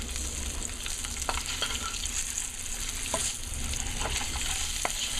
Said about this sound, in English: So this is gonna fry up a little